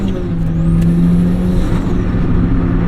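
A 240 whp Mazda Miata accelerates hard, its engine a loud, close buzzing drone rising steadily in pitch throughout.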